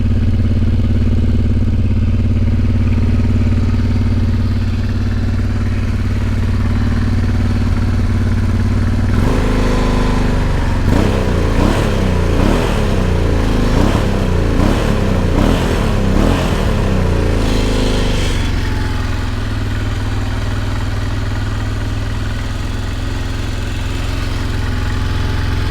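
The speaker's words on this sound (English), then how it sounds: "Check out the sound. V engine, Honda TRANSALP 600V" A 1999 Honda Transalp 600V's V-twin engine idles steadily with a deep, lumpy rumble, revving up into a louder pulsing roar midway before settling back to idle.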